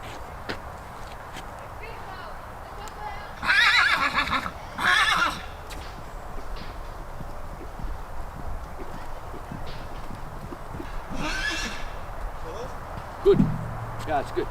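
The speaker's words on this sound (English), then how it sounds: "as we're walking this horse, he might be a little excited and take a few trotting strides or break into a canter or something." A horse being walked during a clinic on a low-grade club foot, with soft hoof clip-clops under a quiet background, loud snorting bursts and whinny-like sounds, and a brief voice near the end.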